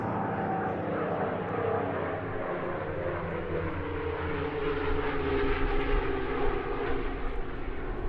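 A pair of vintage Dassault Flamant twin-engine propeller aircraft flying at the Jersey International Air Display, their steady broad engine drone filling the air continuously from a moderate distance.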